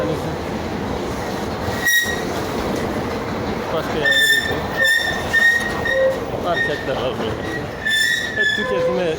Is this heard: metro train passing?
yes